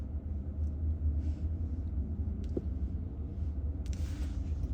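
Inside a Waymo self-driving robotaxi on the move: a steady low road rumble and faint cabin hum, with a few soft clicks and a brief rustle near the end, fairly quiet and with no talking.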